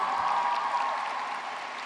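Dense, steady applause from the audience at the 2017 Grady High School graduation ceremony, a continuous wash of clapping that holds at an even level throughout.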